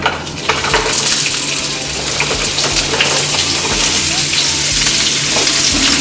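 Green beans dropping into hot olive oil in a pan, a loud, dense crackling sizzle that holds steady throughout, close up, with faint talk in the background.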